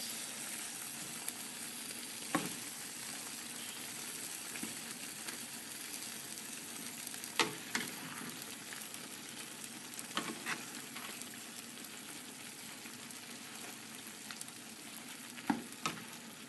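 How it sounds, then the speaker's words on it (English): Tofu and eggplant stir-fry in a spicy sauce in a hot pan, giving a steady sizzle with a few sharp scrapes and knocks from the stirring utensil scattered throughout. "we're going to stir fry it up, stir fry it up, stir fry it up"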